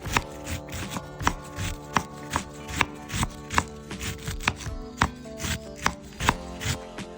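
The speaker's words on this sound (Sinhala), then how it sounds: "මම මුලින්ම ගෝවා ටිකක් කපා ගන්නවා." A knife chops cabbage finely on a board for a vegetable salad, in steady, fairly loud, evenly spaced strokes over quiet background music.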